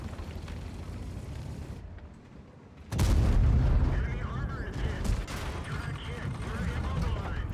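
Tank cannon shot in World of Tanks, one sudden loud blast followed by rumbling battle noise, with a player talking over the combat.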